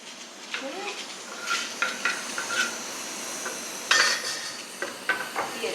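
Chopped tomatoes frying in a pan, with a soft sizzle under repeated stirring and clinks and scrapes of a utensil against the pan, close by and without talk.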